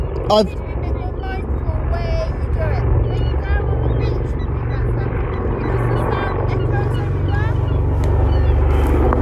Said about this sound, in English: there's a helicopter right now above us.